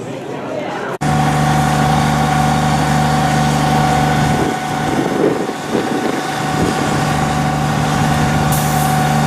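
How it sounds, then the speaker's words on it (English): Mack trucks idle nearby at an outdoor expo, giving a loud, steady low engine drone that runs through the whole stretch with slight wind noise. "Look at those Mack trucks."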